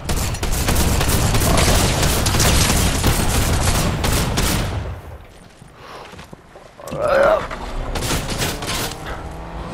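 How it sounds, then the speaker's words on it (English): Sustained gunfire in the video game Fortnite, a dense rapid volley lasting several seconds that drops away, then returns in scattered shots alongside engine-like game noise. "he's shooting at me"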